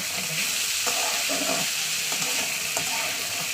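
Chickpeas fry in a pan with a steady, dense sizzle throughout, broken by occasional scraping stirs.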